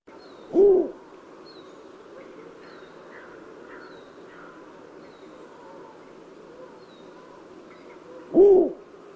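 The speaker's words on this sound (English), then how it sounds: "So I will play the recording I have of the snowy owl." A recorded snowy owl gives two single, deep hoots about eight seconds apart, each short and clear over a faint, steady background hum.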